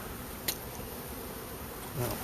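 A collected swarm of honey bees drones in a thick, steady buzz at close range, with a few brief knocks and rustles over the constant hum.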